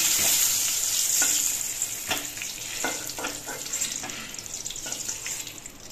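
Eggplant pieces fry in oil in a wok, a steady bright sizzle running throughout with occasional soft clicks of stirring, close and moderately loud.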